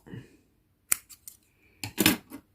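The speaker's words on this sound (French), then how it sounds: "je vais couper le fil blanc" Scissors snip through white crochet yarn with two sharp, close metallic cuts about a second apart, followed by faint handling rustles.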